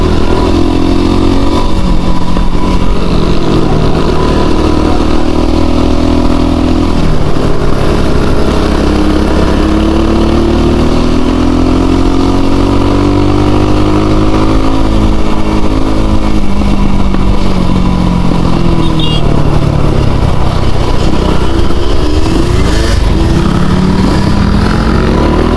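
A Kawasaki and a Yamaha DT enduro dirt bike rev and idle loudly up close on a mountain trail, their engine pitches rising and falling continuously in overlapping, sustained waves.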